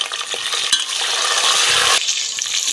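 Chopped onion, green chilli and curry leaves sizzle and fry in a pan as tomato is added, a steady loud hiss broken by brief stirring clatter and a sharp drop in the sizzle near the end.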